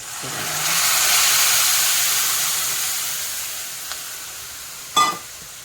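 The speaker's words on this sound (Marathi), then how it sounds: "आपल्याला दूध दूध हे ओतायचं आहे" Milk poured over ghee-roasted vermicelli in a hot pan for sevai kheer, a hissing rush that swells and slowly fades, followed later by a single sharp metallic clink of a utensil.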